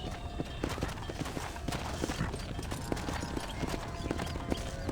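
Horse hooves clip-clopping steadily in Red Dead Redemption, a close, continuous trotting rhythm of soft thuds over a noisy outdoor background.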